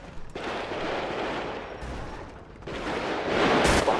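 Bursts of rapid gunfire crackle in a video game as the player is hit, dense and loud, rising again more strongly toward the end.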